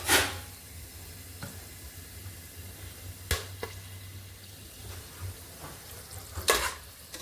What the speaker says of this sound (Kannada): ಸಿಮ್ಮಲ್ಲಿಟ್ಟು ಇದನ್ನು ಒಂದು 2 ನಿಮಿಷ ಹಿಂಗೆ ಎಣ್ಣೆಯಲ್ಲಿ ಫ್ರೈ ಮಾಡ್ಕೋಬೇಕು